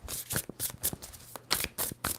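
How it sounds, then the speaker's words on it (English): A deck of tarot cards being shuffled, with repeated quick riffling bursts of crisp papery flutter in close succession, sharp and nearby. "2 more shuffles for Libra"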